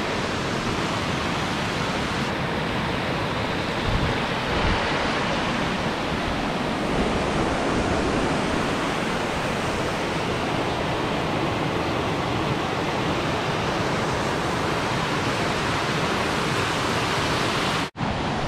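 Aira Force waterfall in the Lake District, a powerful, steady roar of rushing, tumbling water close by, continuous and broadband with some wind buffeting, ending in an abrupt cut.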